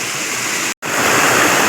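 Muddy floodwater overflowing and rushing across farm fields makes a loud, steady broadband roar close by, broken by one brief gap of silence before it resumes.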